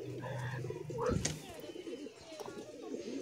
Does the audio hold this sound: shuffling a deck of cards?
no